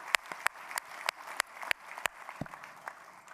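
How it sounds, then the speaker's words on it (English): An audience at a keynote luncheon applauding, heard as fairly quiet, scattered individual claps in an irregular rhythm over a soft room background, with no talking. "Please, a round of applause for all that supported that program."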